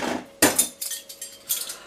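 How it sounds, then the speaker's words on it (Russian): Dishes are being washed by hand in a home kitchen. Crockery and cutlery clink and clatter in several separate knocks, close and fairly quiet. "сейчас немножко посуду помою"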